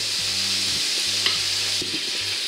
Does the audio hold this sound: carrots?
yes